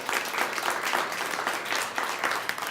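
Audience applause at a body language show, a dense, continuous rush of many hands clapping at a moderate, even level, swelling slightly in pulses, with no speech over it.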